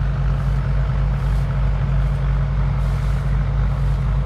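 A heavy vehicle, likely a truck, rumbles past close by on a rice-farming road, its deep steady engine drone loud and continuous throughout, no talking.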